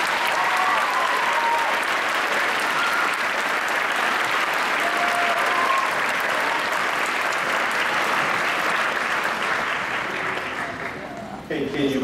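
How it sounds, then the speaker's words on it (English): An audience at an 8th grade graduation ceremony gives the graduating students a long, loud, continuous round of applause that eases slightly near the end. "Please give them a round of applause."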